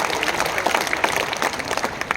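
A crowd at a Hindi poetry recital breaks into dense, sustained applause, many hands clapping together in an even wash of sound.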